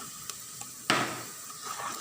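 Onions with chili powder and turmeric sauté in a pan with a soft sizzle, broken by a sharp scrape and clatter of a spoon stirring against the pan.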